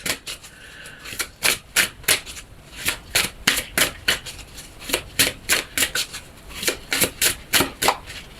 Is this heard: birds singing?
no